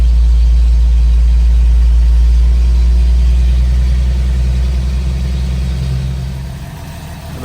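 The inline-six engine of a 1978 Toyota FJ40 runs close by with a loud, low, rumbling idle, a steady throb that tapers off slightly near the end, with no talking.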